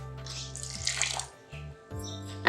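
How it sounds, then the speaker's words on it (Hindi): Water is poured into strained falsa juice in a home kitchen, a short splashing run that stops and starts again, heard over a steady low hum. "इसमें आपने पानी ऐड कर लेना है"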